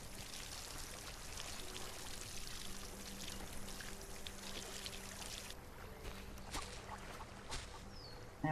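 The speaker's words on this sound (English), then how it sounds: "And water them." Water pours from a watering can onto freshly planted cotton seeds in LOTRO, a soft continuous splashing stream that shifts partway through, quiet and alone.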